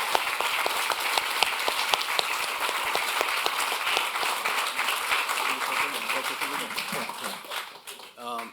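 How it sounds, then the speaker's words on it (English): Steady applause from a crowd at a recreation center ribbon cutting fills the space for several seconds, then fades as a voice begins speaking. "would you all give them a great round of applause?"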